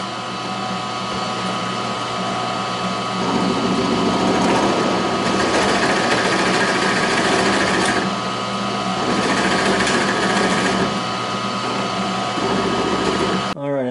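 A drill bores a hole for a T-nut in a small-parts planing jig, whining steadily up close with a few surges in load, while a person talks over it.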